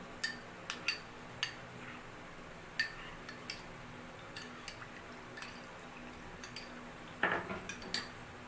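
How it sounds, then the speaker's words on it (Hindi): A metal spoon stirs custard in a pot for homemade ice cream, making scattered light clinks and scrapes against the pot that are faint and irregular over a quiet background. "हम इसमें चम्मच चलाते जाते हैं और कस्टर्ड डालते रहते हैं"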